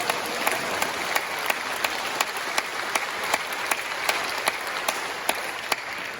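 A church congregation applauds at a Korean men's pastors' choir concert, steady close clapping filling the room with sharp individual claps popping out, no talk.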